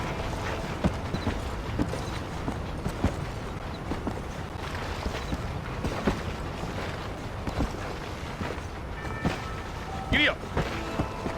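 Horse hooves clip-clopping at a steady rhythm while riding in Red Dead Redemption, mixed with creaks, wind and other ambient game sound, with people talking over it.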